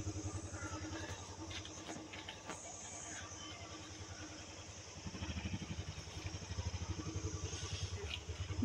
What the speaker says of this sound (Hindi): यहाँ से बाइक अब निकालेंगे